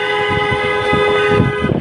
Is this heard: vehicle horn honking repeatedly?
yes